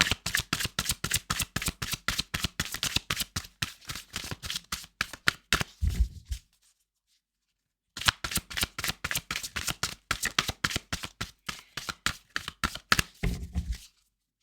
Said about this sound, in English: I was going to start to talk as I was shuffling